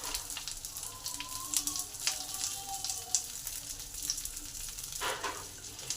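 Pointed gourds (potol) placed one by one into hot oil in a pan hiss with a soft, steady sizzle, with occasional light clinks and crackles close by.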